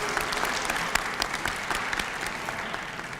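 An audience at a public event gives a big round of applause for the first three speakers, a dense, steady wash of clapping from many hands that holds throughout at close, even loudness.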